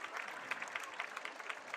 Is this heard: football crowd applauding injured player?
yes